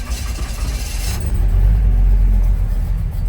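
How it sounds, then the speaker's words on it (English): A 1952 Ford F-1 pickup resto-mod with a 350 V8 cranks and fires, then settles into a loud, deep, even idle rumble close by. "Go ahead and fire it up here for you and go through the gauges"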